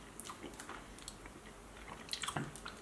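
Chewing a Grenade choc chip cookie dough protein bar, its chewy bar with crunchy chocolate chip lumps giving soft close mouth sounds and squishy bites, with a cluster of sharper crunches near the end.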